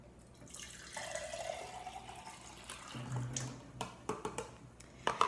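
Tap water runs into a small blender cup over a kitchen sink, a soft steady stream with rising pitch as the cup fills, followed by faint clinks and drips.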